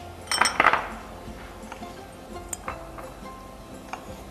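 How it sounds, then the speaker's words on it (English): Small knife cutting cherry tomatoes on a board: a cluster of close clicks and taps at the start, then sparse light knocks against the board, fairly quiet with no talking. "Again, take our little knife. Cut it from bottom."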